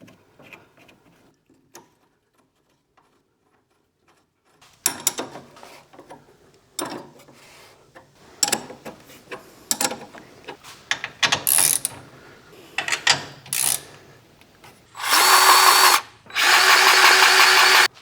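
Hand tools working a 15 mm nut on the sway bar of a Polaris Ranger, with a run of close ratcheting clicks, metallic clanks and short bursts, ending in two longer, louder buzzing power-tool runs; no talking.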